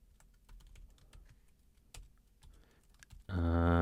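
Rapid keystrokes on a computer keyboard while HTML is written, close and clear, with uneven bursts of clicks before a loud sustained tone cuts in at the end.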